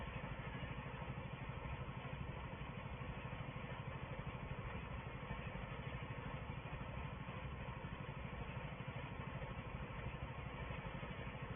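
A Porsche diesel tractor engine runs at a steady, even idle, a continuous low rhythmic chug that stays constant with no voices.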